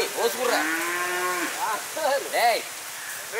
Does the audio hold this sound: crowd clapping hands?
no